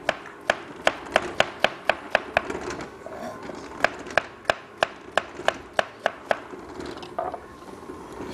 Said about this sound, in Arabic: رح نقطع الموز بهالشكل